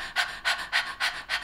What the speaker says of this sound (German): Könnt ihr nochmal hecheln? Hechelt mal.